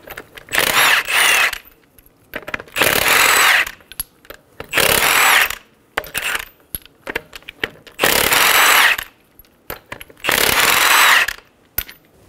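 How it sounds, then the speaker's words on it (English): Power tool, likely an impact wrench on a 21 mm socket, removing front lug nuts from a 2007-2011 Toyota Camry, running in five loud close bursts of about a second each, with short pauses and light clatter between them. "remove the lug nuts."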